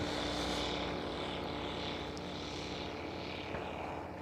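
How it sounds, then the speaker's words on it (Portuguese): A propeller airplane drones overhead, a broad steady roar that swells then slowly fades over about four seconds, heard alone without speech. "Deixa passar um avião enquanto falamos deste avião."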